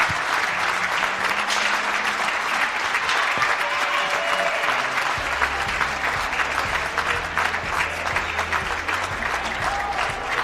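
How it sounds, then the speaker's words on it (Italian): Sustained applause from a crowd at an under-18 women's championship match for third and fourth place, dense and steady across the whole stretch with no talking over it. "Non lo fate un applauso a queste bravissime atlete?"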